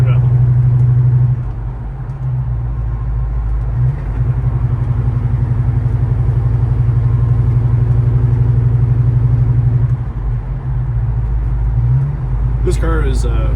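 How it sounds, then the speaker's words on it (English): Carbureted 1968 Chevrolet Chevelle Malibu with a Holley carburetor cruising, a loud, steady low rumble from the engine with brief dips as the throttle eases, someone talking over it. "it is so good to be cruising around in this Chevelle"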